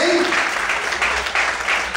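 Loud, sustained clapping from a church congregation, a thick crowd of hands beating continuously, with a faint voice briefly rising at the start.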